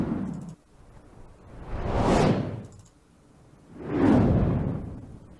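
Two swelling whooshes from a sound effects library, each rising to a broad rushing peak and fading away, spaced about two seconds apart with nothing else around them.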